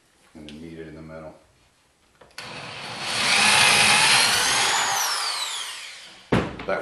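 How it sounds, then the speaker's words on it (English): A power drill spins up and a hole saw cuts into a wooden board, a sustained rising whine and grinding lasting a few seconds before winding down, with someone talking just before. "go ahead and hole saw your 8 holes there for the clearance for our screwdriver and drainage"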